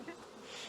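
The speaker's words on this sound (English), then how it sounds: "So we got a whole ton of bees in here now." Honey bees hum inside a hive during a queen-rearing workshop, heard as a brief, faint, close-up drone of many wings with no speech over it.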